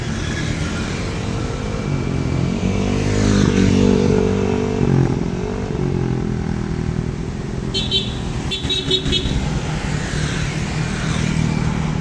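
Motorcycles in an amateur race roar past, engines droning loudly and steadily with a swell of revving in the middle, a few sharp high clicks near the end.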